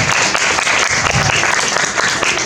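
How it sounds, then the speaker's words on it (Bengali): Dense, steady applause from an audience at a Bengali stage play, loud and continuous throughout with no voices standing out. "মৌমিত, টিনা, শুভাশিস এবং সৌমেন একটু জোরে হাততালি হোক আগে ওদের জন্য"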